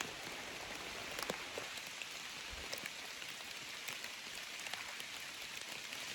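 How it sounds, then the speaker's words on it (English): Heavy rain falls steadily in the woods during a deer hunt on public land, a dense, even hiss of drops with occasional louder taps nearby. "it's raining pretty hard"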